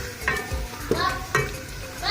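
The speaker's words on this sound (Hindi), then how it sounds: "अरबी को हमें 10 मिनट तक अच्छे से फ्राई करना है मसाले के घी के अंदर ही" Pieces of arbi (taro root) fry and get stirred in hot masala ghee in a village kitchen, a steady sizzle broken by several scraping stirs, close and fairly loud, with no talk.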